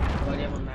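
A brief, loud burst of full-auto gunfire in a video game, with rapid shots blurring into one dense rattle that lasts under a second.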